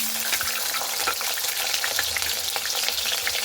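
Washed potatoes dropped into hot mustard oil in a kadai, giving a loud, dense, continuous sizzle and crackle close up with no voices over it.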